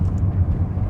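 A BMW M5 engine just after an upshift into third gear, a steady, low, close rumble that holds even and continuous, with no voices.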